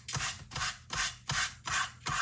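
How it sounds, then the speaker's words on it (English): An emery board rubs back and forth across a papercraft piece in a stamping craft project, six even rasping strokes in a steady rhythm, close but fairly soft, with no talking. "if you don't have a sanding block, you can use an emery board"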